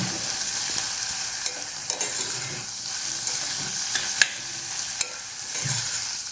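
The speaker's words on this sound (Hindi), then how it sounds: "ऑलमोस्ट आधी मिनट के लिए इसे चम्मच से चलाते रहना है।" A spoon stirs carrots and dal coated in turmeric and oil in a pan: a continuous sizzle broken by irregular scraping clicks and taps, close and moderately loud.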